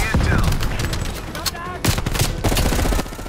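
Rapid automatic gunfire in Call of Duty: Black Ops Cold War, loud and close with dense bursts of shots and some pauses between volleys, a voice speaking briefly in between.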